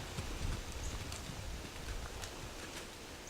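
A horse being ridden around a wet, slippery arena walks with a steady clip-clop of hooves, soft irregular thuds close by and no talking.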